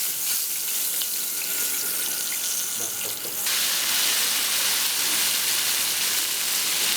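Water pours steadily into a hot pan of tempering with curry leaves, hissing and bubbling loudly, the sizzle swelling into a stronger rush halfway through.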